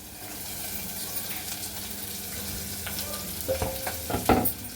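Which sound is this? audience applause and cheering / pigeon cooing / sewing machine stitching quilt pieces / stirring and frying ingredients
stirring and frying ingredients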